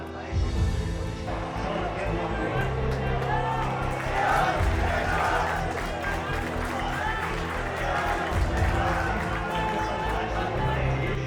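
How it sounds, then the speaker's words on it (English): Soldiers of a Maratha regiment cheer and clap together while watching an India cricket match in a makeshift auditorium at a high-altitude camp, a steady crowd roar with voices and scattered shouts filling the room throughout. "the men in green are cheering on the men in blue in a makeshift auditorium"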